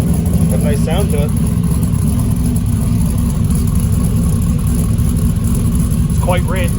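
A Chevrolet Silverado pickup with a Cadillac engine conversion idles with a loud, even low rumble that holds steady throughout, while a voice speaks briefly near the start and again at the end.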